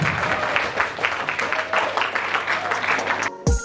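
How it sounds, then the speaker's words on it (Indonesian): Audience applauding at an Indonesian guest-speaker session on curriculum implementation, steady dense clapping for about three seconds before it cuts off abruptly. "Tepuk tangan dulu."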